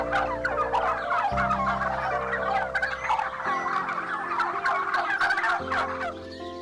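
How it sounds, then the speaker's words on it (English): A turkey gobbles repeatedly in rapid, rattling bursts, loud and close, with no voices over it. "It's a turkey bird."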